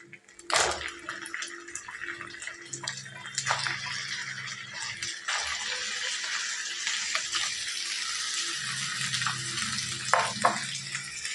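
Chicken added to a pan of frying ginger garlic paste: a sharp hiss as it lands, then a steady close sizzle with scraping and clattering of utensil against pan.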